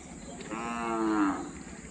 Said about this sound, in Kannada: ಇವು ಹಸುಗಳು ಜೋಡಿ ಹಸುಗಳು ಚೆನ್ನಾಗಿದ್ದಾವೆ.